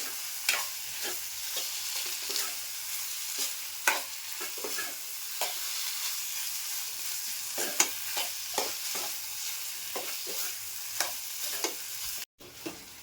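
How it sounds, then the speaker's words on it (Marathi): Prawn masala cooked Malvani style sizzles steadily in a pan while a spoon scrapes and stirs it in repeated close strokes, with a brief cut near the end. "अशी व्यवस्थित परतून घ्यायची"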